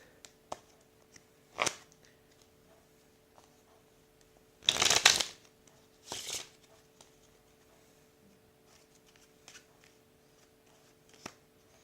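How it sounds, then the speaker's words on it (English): Playing cards are shuffled during a close-up card magic trick, giving a few short crisp riffling bursts spread across a quiet stretch with soft handling noise between them and no talking. "Let me mix these cards up a little bit."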